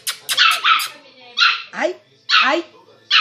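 A puppy coming out of anaesthesia gives several sharp, high barks and yips in short bursts, close by, with someone talking to it in between.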